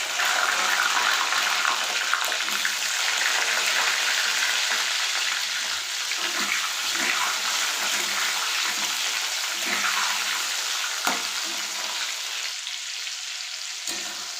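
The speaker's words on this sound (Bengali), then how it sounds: "টমেটোটা ভাজা ভাজা হয়ে এসছে।" Chopped tomato with black cumin seeds fries in hot oil in a pan, a steady close sizzle with occasional stirring scrapes, loudest at first and easing slightly toward the end.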